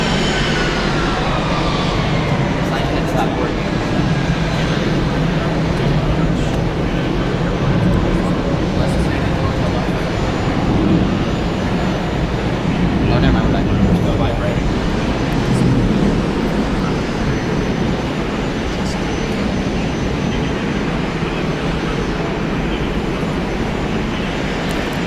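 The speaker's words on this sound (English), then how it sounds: "Very loud with these arrivals and departures here." Jet traffic arriving and departing at Atlanta Hartsfield-Jackson airport makes a loud, continuous roar with falling whine tones early on, and a voice talks over it.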